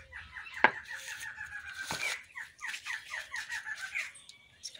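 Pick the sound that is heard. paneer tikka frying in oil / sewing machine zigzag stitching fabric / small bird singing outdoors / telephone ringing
small bird singing outdoors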